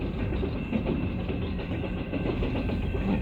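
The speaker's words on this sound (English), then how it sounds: "Here comes an engine" A train rolls steadily along the line, a continuous rumble with faint rhythmic clatter from the cars, heard at a constant level from close by.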